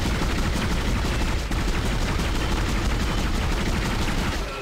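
Rapid, unbroken gunfire rattles from a weapon in the sci-fi horror game Dead Space, a dense, loud burst of shots running through the whole stretch with no pauses.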